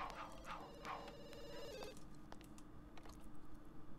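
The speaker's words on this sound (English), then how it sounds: "Is the phone not ringing? No, it is." A telephone in The Sims 2 gives a few rings in the first two seconds. Faint game ambience and scattered soft clicks follow, with no voices.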